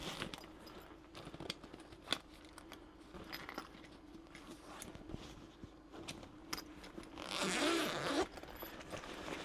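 A zipper on a BlackVoyage compression backpack compartment is pulled open in short, quiet rasping bursts, with a louder, fuller zip sweep near the end and small handling rustles in between.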